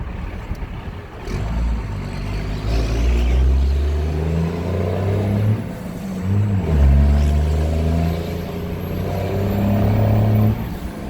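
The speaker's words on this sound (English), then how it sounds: "you want to hear the turbo inside the cab with the windows rolled up" A 12V Cummins truck fitted with a BHAF intake revs repeatedly, its deep engine note rising and falling with turbo whine, heard close from inside the cab with the windows up.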